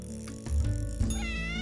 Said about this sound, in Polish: Słodki ten kotek złapał rybę i się cieszy.